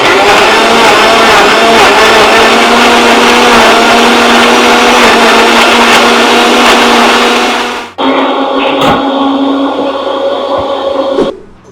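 An electric blender whirs loudly and steadily, blending apple, carrot and pineapple with honey into a drink; the motor pitch shifts abruptly partway through, then keeps running before cutting off.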